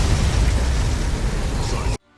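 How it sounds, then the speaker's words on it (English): An orbital ion cannon blast in a tactical RPG, a loud, dense, booming explosion roaring steadily for about two seconds before cutting off abruptly into near silence. "Ion cannon activated."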